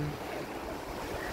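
Sea waves after rain wash and hiss continuously close by, a steady broadband surf roar with no distinct breaks.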